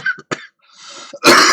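A few short throat-clearing coughs, close and fairly loud, with a harsher burst at the end, from someone at a microphone while playing a Manchester United and FC United football game.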